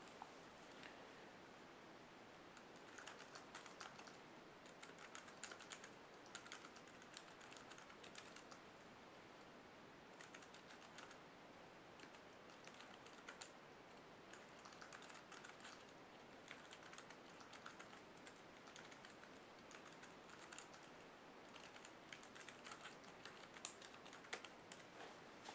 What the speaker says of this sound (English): document and start typing.